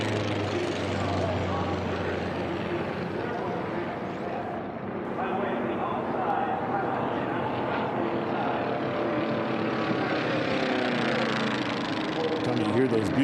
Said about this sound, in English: You hear those beautiful motors on these racers.